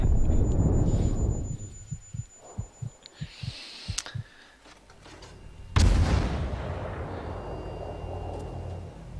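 Battleship guns fire in a naval video game: a string of about eight deep rhythmic booms, then a loud sudden blast that rolls away over a long rumbling tail.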